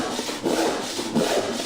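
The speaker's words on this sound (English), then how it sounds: "Just let the weight of the saw do the work." A hand backsaw crosscuts dry furniture-grade wood in close, rhythmic rasping strokes, each push giving a short scratchy burst, about three strokes in quick succession.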